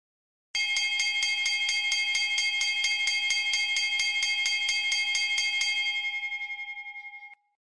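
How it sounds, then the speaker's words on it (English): An automatic school bell machine rings alone with a loud, rapid, evenly repeating metallic clang for about five seconds, then stops and lets a single bright tone ring out and fade. "Robotics Innovations introduces Robotic Bell, a machine to take in charge of bell ringing in an innovative way."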